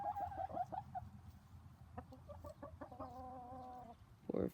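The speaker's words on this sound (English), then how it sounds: "Poor chickens." Molting backyard hens cluck close by in short bursts and a longer sustained call, softly and with pauses, with no voices present.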